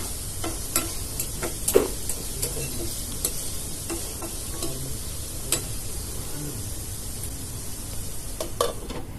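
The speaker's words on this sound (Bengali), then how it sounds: "আবারও একটু নাড়াচাড়া দিয়ে একটু ভালো করে ভেজে নেব।" Chicken and slit green chillies stir-fried in a pan for a Chinese-style chicken and vegetable dish, with steady sizzling under repeated sharp clicks and scrapes of a spatula stirring.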